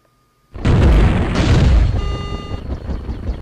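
A banana bomb explodes in a video game: one loud, close blast bursts in and then rumbles away over about three seconds.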